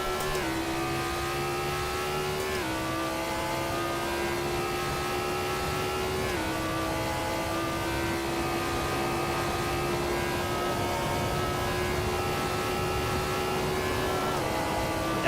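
URD prototype race car engine in the Assetto Corsa racing game, a steady droning whine that climbs in pitch then drops at each gear change, repeating several times at constant loudness with no talking.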